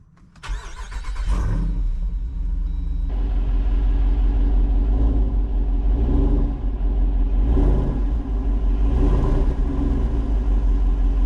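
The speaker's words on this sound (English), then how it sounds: "Right now, the exhaust valves are open, so you're gonna get the full experience." A 2023 Jeep Wrangler Rubicon 392 V8 cranks and fires up loudly with its exhaust valves open, then settles into a deep, lumpy idle with a raw, unmuffled exhaust rumble and occasional surges.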